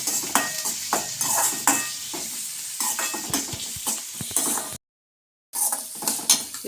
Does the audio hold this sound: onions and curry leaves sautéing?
yes